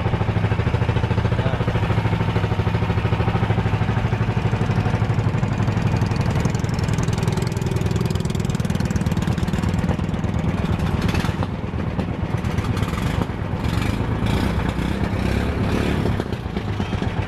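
A boat engine drones steadily and loudly throughout, a constant chugging hum close by, with some rattling and clatter toward the end.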